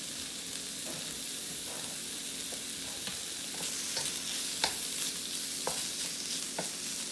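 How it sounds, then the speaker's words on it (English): Bacon browning in a pan beside pre-cooked lobster, giving a steady close sizzle and crackle with occasional louder pops and stirring scrapes, and no voices. "we are going to just let this bacon brown on both sides"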